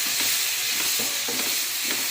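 Tomato thokku seasoned with chilli powder stirred in a frying pan, a steady sizzle with repeated scraping strokes of a spoon through the thick mixture.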